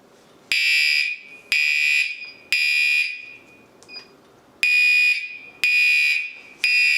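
Gas detector alarm in an ice rink refrigeration engine room sounds loud, piercing electronic beeps, each about a second long, repeating steadily with a brief pause midway before resuming.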